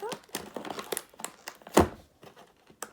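Plastic packaging of a slime kit being opened by hand: a series of close crinkles, scratches and small tears in irregular bursts, with one louder rip partway through.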